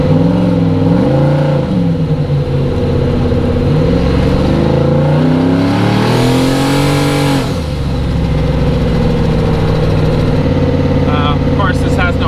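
A car engine revs up and down several times through its range with turbo boost building, loud and close, with a sustained high rev in the middle before dropping back to idle, a voice talking over it.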